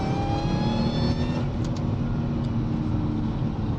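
A supercharged Mercedes Kompressor engine revs steadily, heard from inside the closed cabin, a deep rumble topped by a high supercharger whine that climbs and then settles.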